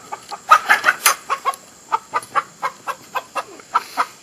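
Chickens cluck in a pen, a steady series of short close clucks and squawks repeating at an even pace with a few louder calls.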